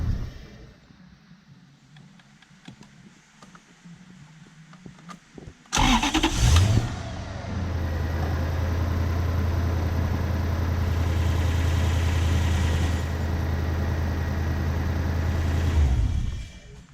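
A BMW E36 coupe fitted with a Toyota 1UZ-FE V8 cranks and fires after a quiet lead-in, flares briefly, then settles into a steady, loud, even idle that continues for about ten seconds before cutting off.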